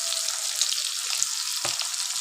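Whole fish roe fritters, coated in salt, turmeric and chilli powder, fry in hot oil in a pan with a steady, close, continuous sizzle that does not let up.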